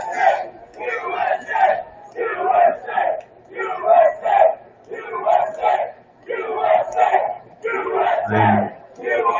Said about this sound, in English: They were cheering, now they're chanting USA.